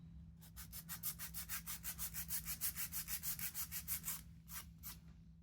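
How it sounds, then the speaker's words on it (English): Rhythmic sanding of rattan, about twenty quick, even back-and-forth strokes, close and clear, then a short pause and a couple more strokes. "I keep sanding until the line is smooth and straight."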